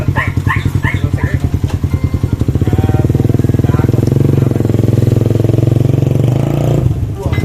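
A motorcycle engine in a small repair shop coughs through a few rhythmic attempts and then catches, settling into a loud, close idle that chugs steadily. Voices talk nearby.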